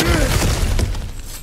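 A heavy crash as a cracked obstacle is smashed through in God of War Ragnarök, a loud breaking burst with rumbling debris that tapers off over about a second.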